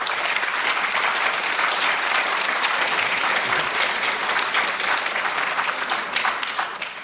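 Sustained, dense audience applause fills a political speech hall, loud and steady throughout with no talk over it, tapering slightly at the end.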